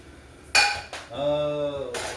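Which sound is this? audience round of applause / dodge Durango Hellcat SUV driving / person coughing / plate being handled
plate being handled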